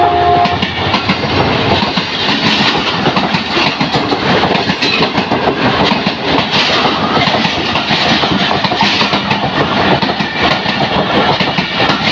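The 28 Down train runs through Badami Bagh railway station in Pakistan, a loud, steady roar of wheels and rail clatter that lasts throughout.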